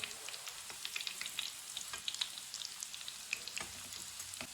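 Food sizzles and crackles as it fries in a pan, a steady hiss dotted with small popping spatters, close and alone with no talking.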